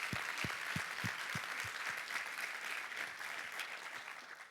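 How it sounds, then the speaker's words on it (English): Crowd applause at an awards and closing ceremony: a steady, moderately distant mass of clapping with some heavier low thumps early on, continuing evenly without speech. "So just give them a round of applause,"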